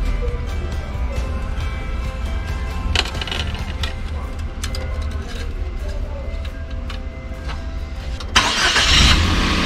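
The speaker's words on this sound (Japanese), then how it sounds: "エンジンかけていきます" A Suzuki Carry DA16T truck engine starts and rumbles at a steady idle with small clicks and knocks, and a louder rushing burst near the end.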